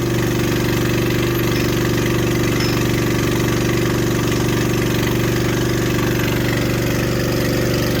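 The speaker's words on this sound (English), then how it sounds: "He's just monkeying around, getting the lift warmed up." A lift's engine warms up after being leveled and set, holding a steady, loud mid-pitched idle drone with a throbbing low rhythm throughout and no voices.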